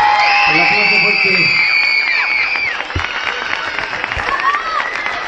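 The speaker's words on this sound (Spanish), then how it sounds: "El aplauso fuerte." A crowd at the opening ceremony of the San Luis Open Challenger Tour tennis event claps and cheers loudly, with whoops and shouted voices over continuous applause.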